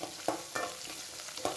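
Onions and garlic sautéing with salt in a pan for a village-style dried anchovy and field bean curry, a steady soft sizzle broken by several scraping stirs.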